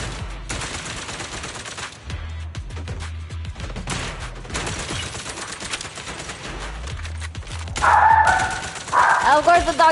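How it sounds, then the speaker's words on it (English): Dogs bark in the video game Zenless Zone Zero, with a few sharp bursts rising near the end over a busy mix of game gunfire and a person talking throughout. "Of course the dogs just start barking."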